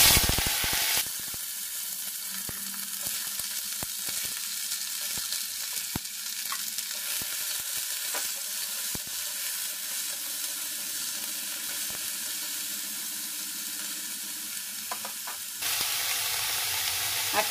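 Tomato slices drop into hot oil tempered with fenugreek, fennel, nigella and mustard seeds over a medium gas flame, giving a steady, close sizzle and hiss with occasional soft stirring clatters throughout.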